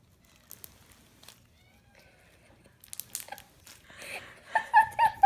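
Crunchy slime made with dried corn kernels squished by hand: quiet scattered clicks at first, then louder wet crackling and popping crunches building up over the last couple of seconds, close to the microphone with no talking.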